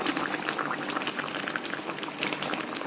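Sugar syrup with bananas boiling and reducing in a pot, a dense, steady bubbling with small pops, close and continuous, no voices.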